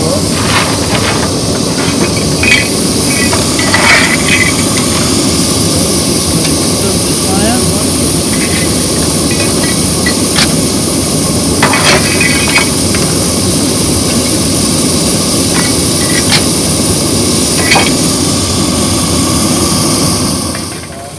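Steady hissing rumble of two steam locomotives idling at the front of a train at Newby Hall, with scattered clanks and puffs over a constant broadband roar, and voices murmuring in the background.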